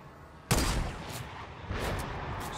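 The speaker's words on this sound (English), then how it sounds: "Somebody else is shooting at him" Bursts of gunfire ring out in a Thanos video game match: a sharp loud onset of rapid shots followed by continued rattling fire and another burst, with no talking.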